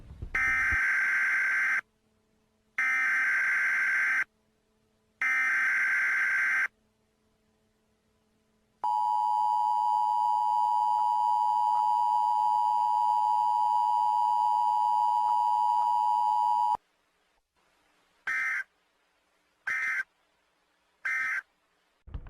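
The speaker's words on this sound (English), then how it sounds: "Your mother and father gathered around the television with you as the blaring beep sprung out." A television emergency alert for severe weather blares loud electronic tones: three harsh buzzing bursts, then a long steady tone lasting about eight seconds, followed by several short chirps.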